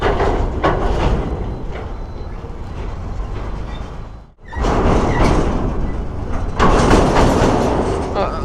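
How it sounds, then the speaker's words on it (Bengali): A train passes alongside a busy road near Farakka Barrage, loud rumbling and clattering of rail cars with a brief dip midway, while a voice speaks over it. "এই দেখো ট্রেন যাচ্ছে পাশ থেকে।"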